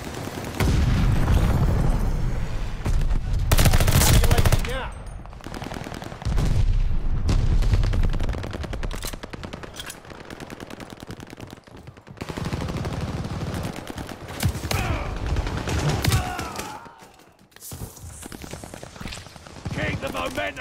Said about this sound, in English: Teammate called an airstrike.